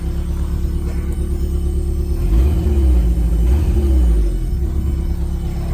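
A Volkswagen Vanagon van engine runs steadily nearby with a low, droning rumble that swells briefly as it revs, no voices.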